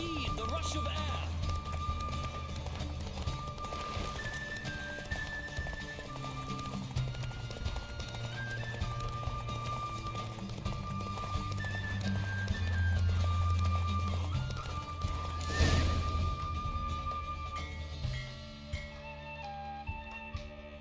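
A horse gallops hard through The Witcher 3, hooves pounding in a fast continuous clip-clop alongside swelling game music, occasional voices talking, and a brief burst near the end before the hoofbeats fade.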